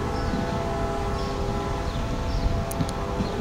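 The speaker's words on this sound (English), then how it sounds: "just for that small 1 minute train" A train passes on the former Nickel Plate Road line, its sustained horn tones ringing over a continuous rolling rumble of cars, fairly loud and near, with a couple of brief sharp clicks late on.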